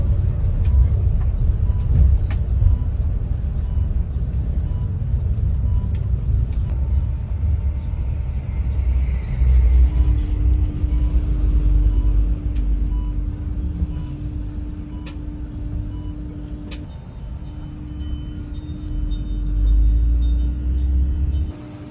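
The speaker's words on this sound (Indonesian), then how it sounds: "bis exit Bekasi Barat nih dan menyusuri Jalan Raya Bekasi" Electric bus travelling along Jalan Raya Bekasi after leaving the Bekasi Barat exit, heard from inside as a steady low road rumble with a faint whine and occasional soft clicks, continuous and fairly loud, with no talking.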